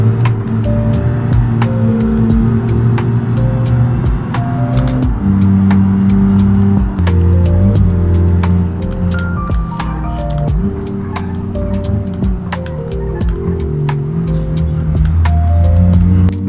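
Car engine held at full throttle in BeamNG Drive on a bumpy road, a loud steady drone with pitch steps as gears change, running continuously throughout.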